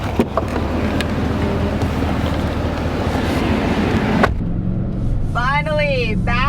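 A 2020 Cadillac Escalade Platinum cruises on the road, a steady rush of road and wind noise filling the cabin before it drops away near the end as a person starts talking.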